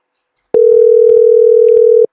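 A telephone tone on a played phone call: one steady, loud, unbroken tone lasting about one and a half seconds, starting and stopping abruptly after silence.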